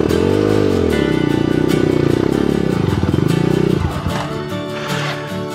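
Trail motorcycle engine revving hard on a mountain trail ride at Mount Balagbag, a loud, close, sustained growl with rising and falling pitch that eases off near the end.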